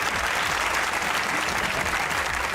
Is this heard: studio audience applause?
yes